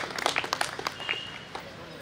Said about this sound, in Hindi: ज़ोरदार तालियों से इस्तकबाल कीजिए मोहतरमा किरण यादव